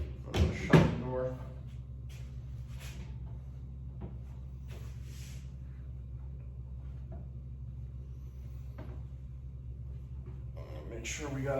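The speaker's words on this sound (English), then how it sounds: "Shut the door." A ClosetMaid cabinet door is pushed shut during assembly, a couple of close wooden thumps and a knock near the start, then a low room hum with faint taps, and a voice speaks over it.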